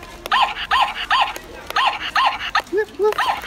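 A voice imitates a dog's bark, several short rhythmic woofs in a row, close and clear, with light background noise.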